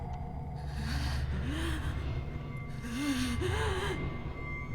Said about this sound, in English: I hear what sounds like pained breathing